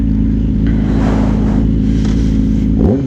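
A 2014 Yamaha R6 sport bike with an aftermarket exhaust idles loud and close, then revs briefly near the end, a steady low throbbing rumble with a quick rise in pitch.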